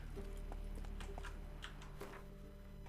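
Rhythmic hoof clip-clops from a horse in The Witcher 3: Wild Hunt, a series of light, sharp taps over a steady low hum, moderately close.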